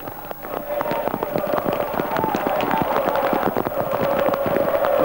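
Heavy rain pelts the camera at a flooding football pitch in rapid, crackling bursts, a dense, irregular patter like popping that continues throughout.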